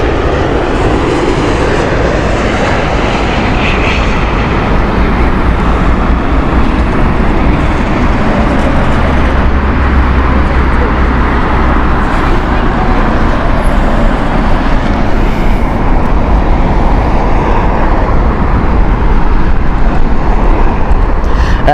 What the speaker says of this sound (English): As we enjoy the 787 here of British Airways